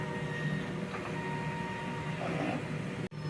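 A DTF printer runs a print head cleaning cycle, giving a steady motorized whir with tonal hums and a brief mechanical clunk near the end, alone without talk.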